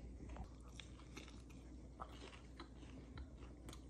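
Quiet bites and chewing on homemade cheesy bread during a blind taste test, soft crunchy mouth sounds repeating close by over a low background, with no talking.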